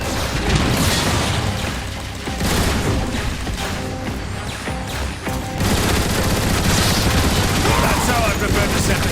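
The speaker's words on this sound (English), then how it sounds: "Grenades!" Grenade blasts and rapid gunfire in the shooter Transformers: War for Cybertron give dense, crashing bursts and booms that come in waves over several seconds, mixed with mechanical clatter and some faint voices.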